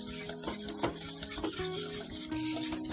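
Mango custard being stirred in a pan, with a continuous close scraping and light clinking of a utensil against metal, plus faint tonal hum underneath, steady and fairly loud, with no voices.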